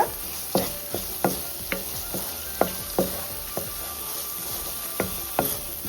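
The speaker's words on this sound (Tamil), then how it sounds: "வெங்காயத்தை நல்லா வதக்குங்க" Onions sautéing in a pan for fried rice: a soft sizzle under regular scraping and tapping of a spoon against the pan, about two strokes per second.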